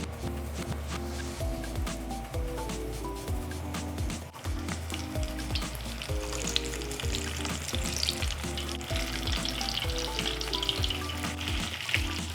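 Food frying in hot oil in a pan for pork and shrimp, a steady close sizzle with occasional stirring and clatter, no talking.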